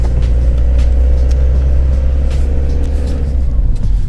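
A car rolls along a road in rain with a steady low engine rumble and tire noise, loud and close throughout.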